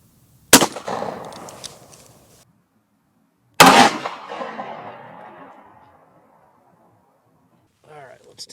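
Two 9mm 124-grain NATO rounds fired at a ballistic helmet on an outdoor range, each a sharp, loud report with a ringing decay, spaced about three seconds apart, followed by a brief faint voice.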